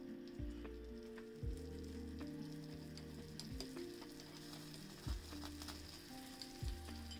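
Red chilli powder and turmeric crackle and sizzle in hot oil for a tadka in a mini kitchen, a steady frying hiss with a few louder stirring scrapes recurring at intervals.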